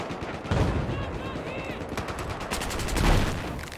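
A suppressed gun firing during a Battlefield 2042 match, a steady run of muffled rapid shots mixed into dense battle noise and other distant gunfire, continuous and moderately loud throughout.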